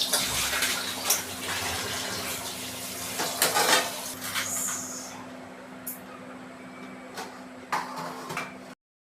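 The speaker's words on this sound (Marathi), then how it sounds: "आता पूर्ण घासून हंडा स्वच्छ धुवून भरून ठेवते" A metal drinking-water pot being scrubbed, rinsed and filled in a home kitchen: steady rushing water with scattered clanks and knocks from the vessel, which stop abruptly near the end, with no talking.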